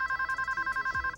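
Telephone ringing in a video game during a phone call, a steady electronic ring pulsing in rapid repeated bursts, close and clear with no talk over it.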